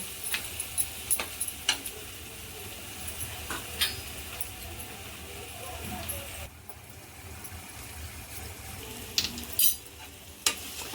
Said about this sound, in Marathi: तेल सुटेपर्यंत याला आपण आता मिक्स करून घेऊ याला तेल सुटलं पाहिजे